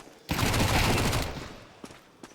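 Pistol fire in Counter-Strike, a dense burst of shots lasting about a second that fades out, followed by two brief sharp clicks, fairly loud with no talk.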